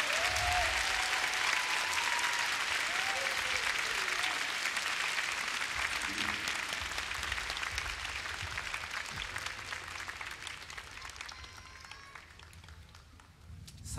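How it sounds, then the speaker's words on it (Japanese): Large open-air concert crowd at Hibiya Open-Air Concert Hall applauding as band members are welcomed at a final live show, a loud sustained roar of clapping and cheers that slowly thins toward the end, with voices calling out. "拍手で迎えよう"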